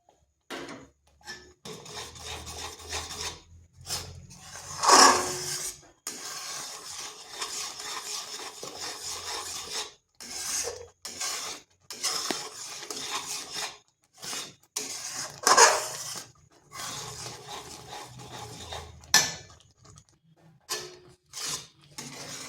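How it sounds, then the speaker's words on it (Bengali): Khirsa, a thick milk mixture for patisapta pitha, stirred steadily with a spoon in a pan, making a continuous close scraping and rubbing with short pauses and a couple of louder scrapes. "আর এটাকে এইভাবে অনবরত নাড়তে হবে, না হয় এরকম নিচে লেগে ঢেলা ঢেলা হয়ে যাবে।"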